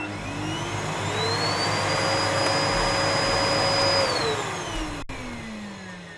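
An electric motor run through an inverter starts up, its whine sweeping upward in pitch, holding steady at a high tone, then winding back down, loud and close with no talking.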